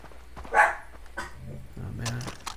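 A pet dog barks in a room during a Far Cry 3 gaming session, one sharp near bark followed by softer yips and whimpers amid game sounds.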